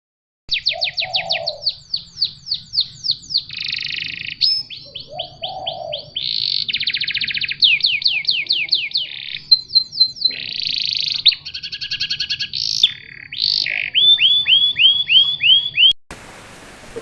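A young canary sings at close range, long loud sequences of rapid trills, sweeping whistles and buzzy rattles with hardly a pause, over a faint low background hum, ending abruptly.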